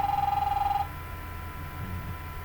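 A telephone rings in The Wolf Among Us, a short burst of a steady, pulsing electronic tone that cuts off after under a second, leaving a low background hum.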